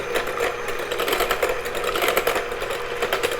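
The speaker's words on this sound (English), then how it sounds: "I'm going to start mixing our eggs, or beating our eggs a little bit, with my electric hand mixer." An electric hand mixer runs continuously while beating eggs in a medium-sized bowl, a close, steady motor whir with a faint rattle against the bowl and no talking.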